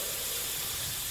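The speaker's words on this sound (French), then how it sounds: "Un tuyau perforé se met à siffler en lâchant un mince filet de vapeur." A perforated pipe hisses, releasing a thin jet of steam in a steady, loud, bright hiss that continues without a break.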